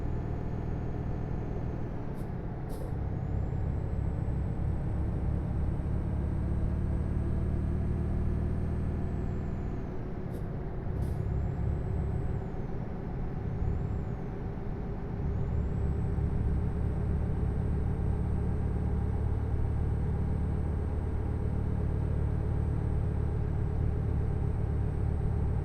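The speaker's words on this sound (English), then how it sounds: "So it must be the sound of my truck. Every truck has got its own unique sound." A truck engine drones steadily in Euro Truck Simulator 2, a constant low rumble under a high whine, broken by sharp hissing air brake releases near the start and again around the middle.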